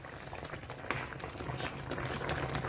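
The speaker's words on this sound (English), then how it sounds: "it has to boil before you put this one in." Chop suey sauce boiling in a pan, a steady close bubbling and popping simmer with small sputters throughout, no talking.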